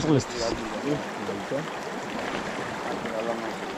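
A small mountain stream flows steadily with soft trickling and gurgling water close by, while people talk over it.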